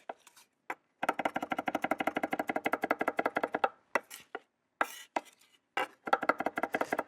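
A chef's knife rocks quickly against a cutting board, mincing garlic into a puree for a potato gratin dauphinois. The taps come in fast, steady bursts with brief pauses between them, close up, with no talking.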